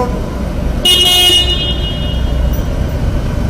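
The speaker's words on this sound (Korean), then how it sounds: "자, 크락션." A single loud horn honk, about half a second long, from a Harley-Davidson Breakout 114 motorcycle over its low idling engine rumble.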